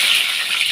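Mustard seeds crackle and splutter in hot oil in a kadai, a dense steady hiss of tiny pops holding close and even for a brief moment with no voices.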